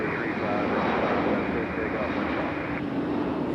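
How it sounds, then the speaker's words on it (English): A McDonnell Douglas MD-11 airliner roars on its takeoff run at Raleigh-Durham International Airport, a loud, steady broadband jet rumble with wind buffeting the microphone throughout. "MD-11 in a hurry, as it always is."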